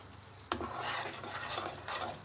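Semolina frying over a medium flame in a pan for a pumpkin halwa, a spoon scraping and stirring continuously with a sharp clink against the pan near the start and soft scraping strokes after.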